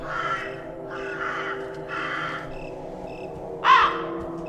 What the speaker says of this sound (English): Yep, those are crows.